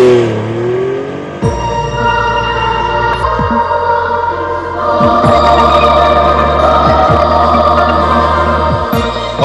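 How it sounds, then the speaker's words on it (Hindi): A Triumph Rocket 3, a 2300 cc production motorcycle, idles and is revved several times, the engine swelling and settling in repeated blips, loud and close with no talk. "यह है ट्रायम्फ रॉकेट 3, दुनिया की सबसे बड़ी प्रोडक्शन बाइक"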